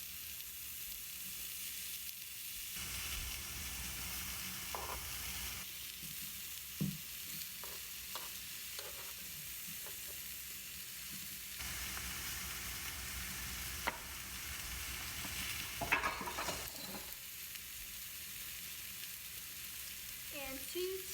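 Onions and garlic fry in a pan, a soft steady sizzle with occasional stirring clatter, fairly quiet and without talk.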